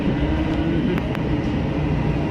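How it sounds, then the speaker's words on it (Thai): An electric Gold Line train on Thailand's Bangkok system hums and rumbles steadily, a dense, even interior running noise with a couple of faint clicks, no talk. "มีรถไฟฟ้าสายสีทอง"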